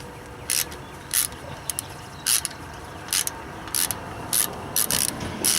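Ratchet turning the locating screw on a BMW E83 X3 brake rotor, giving short, regularly spaced bursts of metallic clicking, roughly every half second, close up over a low background hum.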